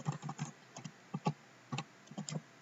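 Python code typed on a computer keyboard: a burst of close, crisp keystroke clicks in irregular clusters, loud and alone with no talking.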